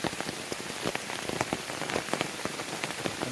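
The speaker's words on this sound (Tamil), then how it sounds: "மழை வேற" Heavy rain pours down through a forest where tigers live, around a tall jackfruit tree, with dense, steady patter and scattered louder drops hitting leaves and surfaces close by.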